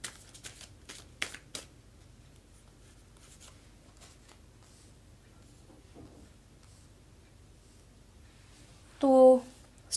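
Tarot cards are shuffled close by in a few quick, crisp riffling bursts at the start, followed by a long near-silence and a brief voice near the end.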